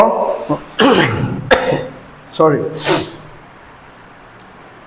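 Several harsh coughs in short bursts close to the mic, broken up by a brief spoken word.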